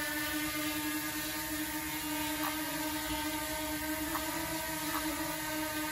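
A DJI Mini 2 drone hovers and turns in place, its propellers giving a steady, high, tonal whir that holds throughout, loud and close, with a few faint clicks in the background.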